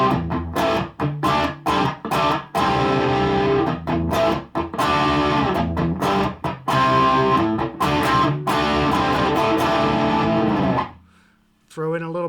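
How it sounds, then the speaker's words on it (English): Overdriven rhythm guitar from a Gibson Les Paul through a Friedman BE OD pedal into a Marshall 1974 amp, chopped chords with crisp stops, loud and close, ending in silence before a brief voice. "a nice kind of rhythm, overdriven rhythm"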